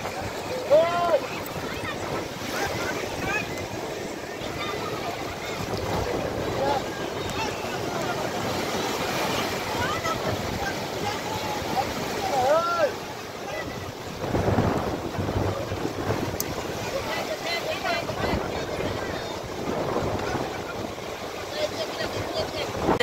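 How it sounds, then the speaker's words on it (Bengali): Sea waves at Digha surge and wash around a boat amid gusty wind buffeting the microphone, with voices talking intermittently. "ঢেউটা দেখো"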